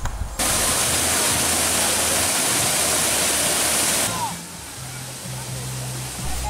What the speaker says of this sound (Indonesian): mampir ke lokasi wisata air terjun Aik Si Joni yang bertingkat